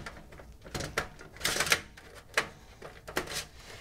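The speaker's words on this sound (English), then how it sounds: "Slide your drive in." A computer drive slid into a case bay during a custom PC build, heard as a series of short plastic-and-metal clicks and scrapes in irregular bursts, close and fairly quiet, with no talking.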